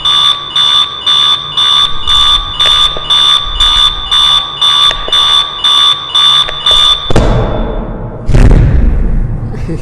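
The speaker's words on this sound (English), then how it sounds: "you gotta slap the alarm clock to get it stopped" Alarm clock in the video game Virginia ringing in a loud rapid pulsing electronic beep of about a dozen regular bursts, then cut off abruptly by a thud, followed by a second dull knock.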